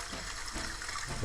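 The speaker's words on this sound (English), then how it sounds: "So simulating water, and it's playing sounds from my phone." A water sound effect plays from a phone through a Govee or TP-Link smart light app, a steady, faint rush of flowing water with no talking.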